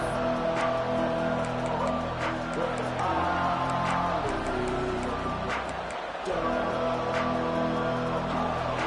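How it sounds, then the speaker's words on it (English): A stadium crowd at a Washington versus Penn State football game roars in a dense, continuous wash of voices, loud and sustained with brief swells. "This crowd bringing the energy and noise early."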